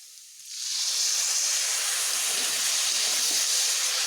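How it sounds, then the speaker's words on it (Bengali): Water poured into hot frying taro (aru) sets off a loud, steady hiss of sizzling and steam that swells after a brief quieter start and holds strongly to the end. "এবার আমি এটি ভাজা হয়ে গেছে আমার এখানে আমি জল অ্যাড করব"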